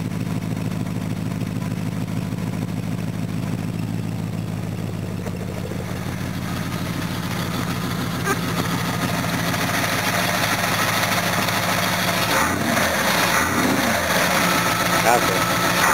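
A Jaguar V8 idles after a hard cold start, a steady low throbbing rumble with slightly noisy belts, close and constant, and brief speech is heard near the end.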